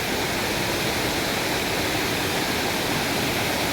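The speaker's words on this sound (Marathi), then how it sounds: "तर ह्यो सावडावचो धबधबो" Savdav waterfall at night, a dense, steady roar of falling water, loud and close and unbroken, with no voices.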